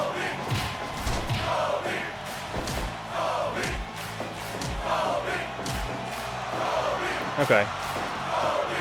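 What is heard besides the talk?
crowd chant sound effect being played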